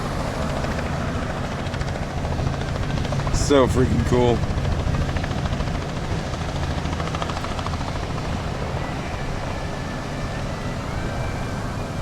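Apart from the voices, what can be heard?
helicopter landing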